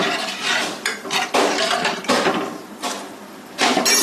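A spoon scraping and knocking around a metal pot while turmeric is stirred into pepper rasam, loud close strokes in uneven bursts with short pauses, no talking.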